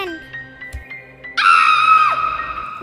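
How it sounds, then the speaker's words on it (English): A child's loud, sustained scream bursts in partway through, sharp and piercing at close range, holding for over a second before trailing off, with quieter movement and talk-like sounds before it in a staged horror scene. "We heard you scream."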